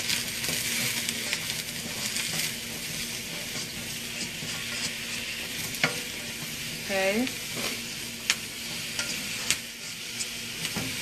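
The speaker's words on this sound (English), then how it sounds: "I want to hear that sizzle." Garlic and onions fry in oil with a steady sizzle in a pan, continuous and fairly loud, with a few clinks of a utensil and a brief word spoken over it.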